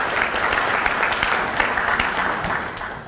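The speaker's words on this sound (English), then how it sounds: "Let's have a round of applause for both of them." Audience applause at a chamber of commerce breakfast, an even, sustained patter of many hands clapping in a room at moderate loudness, holding steady throughout before easing slightly at the end.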